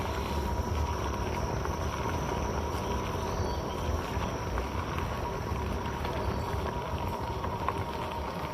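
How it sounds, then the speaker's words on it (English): Insects chirping along a rural bike trail in Missouri, a faint continuous high buzzing drone with steady texture and no voices. "Bugs."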